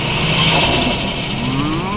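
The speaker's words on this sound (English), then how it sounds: "this has got some next level turbo noises" A 520 hp five-cylinder turbocharged Ford Focus RS Mk2 revs loudly and close, its engine roaring steadily with a rising whine over two seconds.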